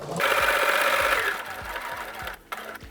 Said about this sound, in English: you're just going to repeat sewing down until you're in the intersection